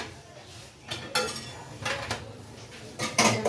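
Steel dishes, pots and pans are put away in a home kitchen, with several sharp metallic clanks and clinks at irregular moments against quiet background.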